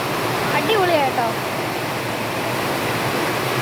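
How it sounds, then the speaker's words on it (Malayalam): Heavy rain pouring in a steady, loud wash of noise during a windy storm, with a brief voice-like sound early on over the continuous downpour. "എന്തോ കണ്ടോ ഭയങ്കര മഴ പെയ്യുന്നുണ്ട്."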